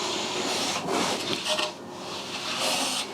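A sharpened hand plane shaving fine curls from a wooden board, giving repeated rasping, rubbing strokes with short pauses between passes, close and clear, no talking.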